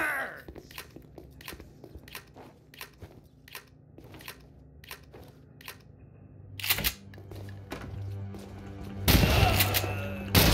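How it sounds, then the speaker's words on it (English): Gunfire and a flashbang blast in the tactical shooter SAS Secure Tomorrow: a long run of sharp, evenly spaced single shots, then a loud burst near seven seconds and a bright, roaring flashbang bang near the end, with no talk. "Flashbang!"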